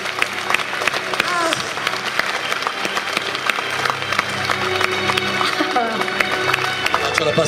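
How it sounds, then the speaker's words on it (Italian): Audience applause at the Romics 2004 convention in Rome, a steady crowd of clapping that runs loud and dense throughout, with scattered voices mixed in underneath. "Tutto si merita un applauso ancora più grande, eh?"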